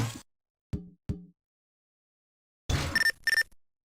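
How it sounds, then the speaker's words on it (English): A text message alert chimes in Tony Hawk's Underground 2, two bright electronic beeps in quick succession, clear and alone after a few short low thumps of in-game action. "Just break that, and we get ourselves a text message."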